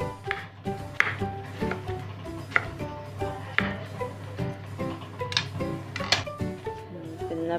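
A knife chopping bottle gourd on a cutting board: a dozen or so crisp, close knocks in an uneven but steady rhythm, each strike sharp against the board, with no clear talking.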